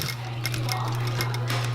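A sewing machine stitching back and forth over dog collar webbing makes a fast, even mechanical rattle of needle strokes close to the microphone, steady and unbroken over a short span.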